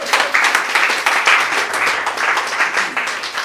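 Congregation applauding at a church service, a dense, steady patter of many hands clapping close by and filling the whole stretch without a break.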